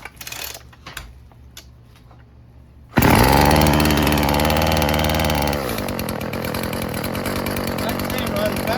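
A Stihl FS36 string trimmer's small two-stroke engine starts abruptly after some quiet handling noises, runs loud and close, then settles into a steady idle.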